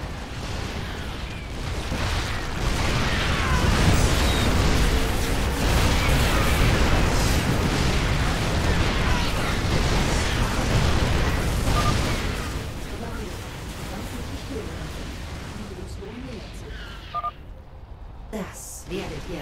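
Explosions in the real-time strategy game StarCraft II: Wings of Liberty, a dense rumbling barrage of booms and bursts that fades toward the end, with some game sounds layered in.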